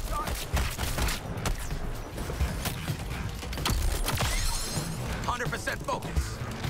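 Gunfire erupts from a weapon in the video game Suicide Squad Kill the Justice League, as rapid bursts of shots mix with crashes and whooshes under a player's talk during hectic combat.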